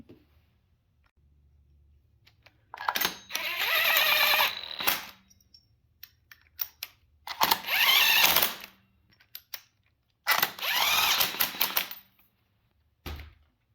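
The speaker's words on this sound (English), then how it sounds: "I'm just going to use a ratchet." A hand ratchet tightens coolant elbow bolts on a GM 3800 engine in a Grand Prix GTP, giving three close, loud bursts of rapid clicking separated by pauses, with a few stray clicks and no voices.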